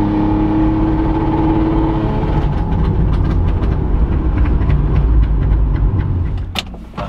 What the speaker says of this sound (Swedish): Allting vibrerar ju hela Stuvsta när man gasar sådär.